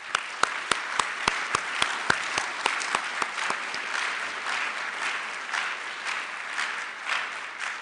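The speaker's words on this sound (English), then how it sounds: "let's all give the students, advisors, and guests a round of applause" An audience at an annual student design competition banquet applauds the students, advisors and guests, first with a few loud distinct claps near the front, then a sustained even round of clapping filling the room.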